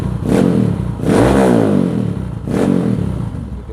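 A carbureted motorcycle fitted with a GP7 power cable runs close and loud, its engine revved in three rising surges with a rough, clattery idle between them and no voices.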